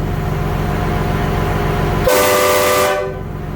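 A single loud, sustained Horn Blasters train horn blast on a 1991 Dodge Ram W250 Cummins truck sounds for about a second over a steady engine idle, then cuts off.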